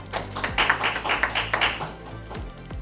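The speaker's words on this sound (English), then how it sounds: "let's please give Dr. MANDLEBE another round of applause." Sparse, light clapping from a small audience at a stock exchange opening bell ceremony, a short patter of claps heard at moderate distance that quickly dies away.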